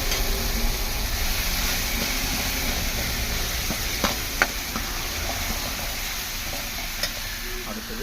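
Ginger garlic paste and onions fry in a pan with a loud, steady sizzle that fills the whole stretch, broken by a few faint clicks of stirring.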